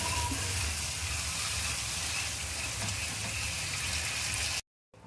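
Water is poured into a sizzling masala paste of cashew, poppy seed and melon seed for fish chaap, giving a loud, steady hiss and bubbling that cuts off abruptly near the end.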